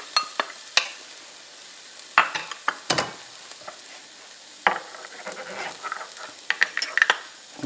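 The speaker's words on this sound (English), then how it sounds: "I have a couple tablespoons of olive oil heating up in my pan. I'm going to add in my onion." Chopped onion sautéing in a couple tablespoons of hot olive oil in a pan, a soft sizzle with scattered sharp clinks and scrapes of stirring, close up and without talk.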